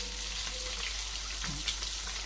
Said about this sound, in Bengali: তো ডিমটাও হালকা ভাজা হয়ে গেছে